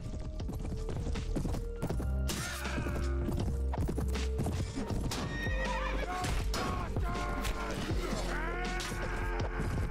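Chaotic battle noise in the video game Prophesy of Pendor, with horses repeatedly neighing and hooves clopping, thuds and clashes throughout, loud and busy with voices mixed in.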